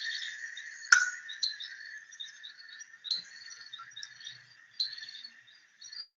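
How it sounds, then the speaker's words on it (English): A reed bamboo frog calls from outside a bamboo stem: faint, high, insect-like chirps and clicks repeat irregularly over quiet background, with one sharper click near the start. "let us just see that particular video where the reed bamboo frog is actually croaking from"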